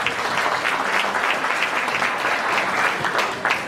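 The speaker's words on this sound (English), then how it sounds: "So give yourselves a round of applause" A crowd applauds steadily, a dense wash of clapping hands that holds throughout without pause.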